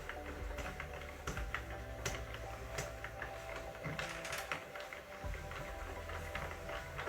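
A Sentro/Addi circular knitting machine cranked slowly, giving a steady run of light plastic clicks and ratcheting ticks, close and moderately loud, with no talk over it.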